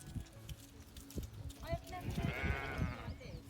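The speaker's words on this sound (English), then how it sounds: "I don't think I've ever been this close to a sheep before." A sheep bleats close by on the moors, a wavering nasal call rising over rustling and handling noise, with a person speaking nearby.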